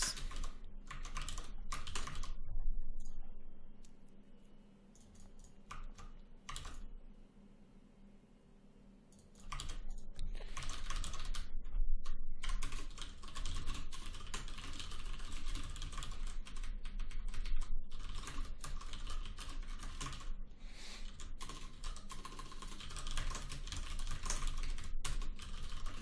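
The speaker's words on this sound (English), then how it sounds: "typing pretty quickly here because I need to get this done" Rapid, dense clatter of keys on a computer keyboard during a game jam, fast bursts of typing running almost continuously with a brief quieter pause near the start.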